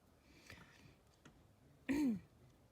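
A single sharp cough from a woman during a card reading, fairly loud and alone after quiet seconds with a few faint soft noises, no speech around it.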